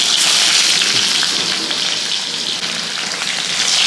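Chopped mango fries in hot coconut oil, giving a loud, dense, continuous sizzle close up that holds steady throughout with no voices.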